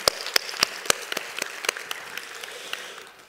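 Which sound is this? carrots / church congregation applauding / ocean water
church congregation applauding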